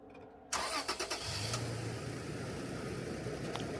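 A truck engine cranks over and catches, then settles into a steady low running rumble as it pulls away.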